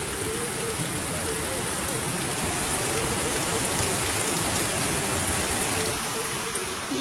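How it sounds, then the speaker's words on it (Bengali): Heavy rain pours down on a gloomy day, a dense, even hiss of drops on surfaces that holds steady and close throughout, with no talking over it. "কি হারে বৃষ্টি নেমেছে"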